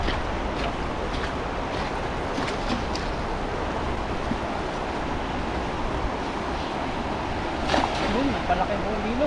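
A swollen river rushes in a continuous, dense roar of churning water close by, steady throughout with no break, while a voice briefly cuts in near the end.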